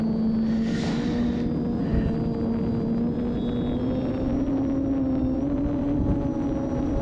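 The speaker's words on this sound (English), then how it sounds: "What a great flying little airplane." A small OMP Bighorn model plane's battery-powered motor drones steadily overhead, a sustained buzzing whine with a faint rising-falling pitch, continuous and fairly loud throughout.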